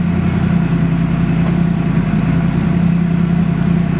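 A twin-turbo 427 LS V8 running on a dyno at 24 pounds of boost, a loud, steady, dense engine roar held at high power throughout without a break or any voices.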